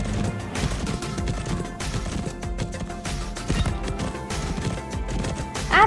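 Horse hooves beat through a show jumping course in the riding game Riding Club Championships, a loud, steady clip-clop rhythm with occasional heavier knocks.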